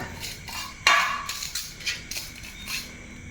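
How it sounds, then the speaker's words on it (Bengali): A metal plate and spoons handled up close, a sharp clanking knock followed by several lighter metallic clinks and rattles in an irregular rhythm. "এই যে একটা থালা নিয়ে এসছি আর এইখানে আছে চারটে চামচ"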